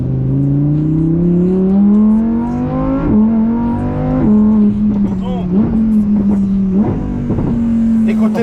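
A Lamborghini Huracán Tecnica V10 engine revs loudly and close, climbing steadily in pitch, with a few brief gear-shift dips and a sustained, powerful roar throughout.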